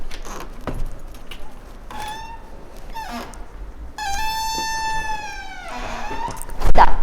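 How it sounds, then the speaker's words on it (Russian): Keys jangle as they come out of a pocket, a light metallic rattle in a quiet hallway, followed by a louder clink at the end. "Ключи в кармане."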